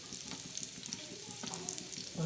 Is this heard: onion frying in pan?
yes